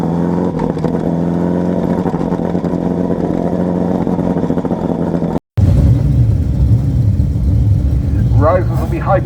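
Speedway sidecar motorcycles rumble at Oceanview Speedway during a Karl Barrett Memorial heat, a loud, dense engine drone that briefly drops out before revving continues, with a voice talking over it.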